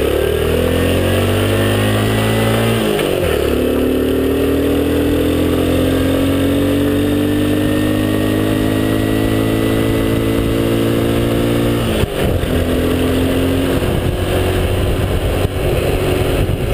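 Motorcycle riding up North Island Drive on Harstine Island: a continuous engine drone that rises through the gears, with a clear shift early on and another later, heard alone and close.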